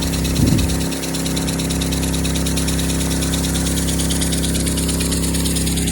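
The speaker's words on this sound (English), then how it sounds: "Y'all hear that pump running up there?" A garden water pump for a sprinkler hums and drones continuously at close range, with a constant vibrating whine and no pauses.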